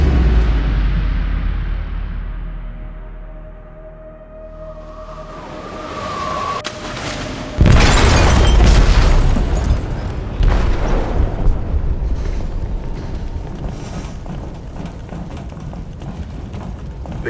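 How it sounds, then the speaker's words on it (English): An explosive detonates in a ship's hold in the video game Detroit Become Human: a sudden loud blast cuts through a quieter scene, then a heavy, sustained rumble and churning roar carry on for several seconds. "They detonated an explosive in the hold."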